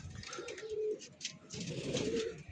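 Frightened pigeons kept loose in a net give low, throaty coos, two or three close calls under rustling and fluttering movement, with no talking.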